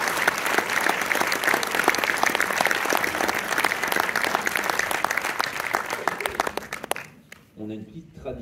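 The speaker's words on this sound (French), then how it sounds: "donc applaudissez-la" Applause from an audience at a film premiere in Orléans: dense, sustained clapping fills a hall, then breaks off abruptly near the end as a voice resumes speaking.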